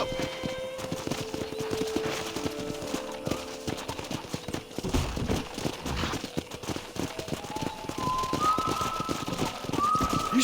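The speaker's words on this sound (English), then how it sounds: "let's see if we can't wrangle some horses." Horses running in the Red Dead Redemption video game, a steady clip-clop of hooves through the whole stretch, with whistling tones and faint background sounds mixed in.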